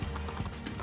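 Horse hooves clip-clop in quick, even beats in Assassin's Creed 2, a short close run of footfalls over a thick low game rumble.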